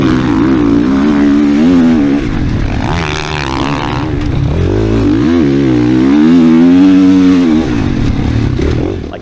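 A car with a tuned ECU accelerates hard in second gear on a race track, its engine rising and falling in pitch as it revs, loud and close throughout with no talk.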